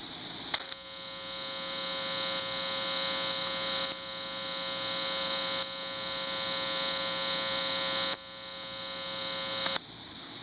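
VLF radio reception picked up through the violet wire of an LT-72 transformer: a steady buzzing hum with a hissy crackle of lightning spherics, continuous and fairly loud, with a few abrupt clicks along the way and no voices.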